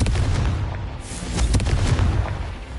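The fiery Confringo blast spell in the Hogwarts Legacy video game, heard as loud explosive booms with a sharp burst near one second and another around a second and a half, over a rumbling low backdrop.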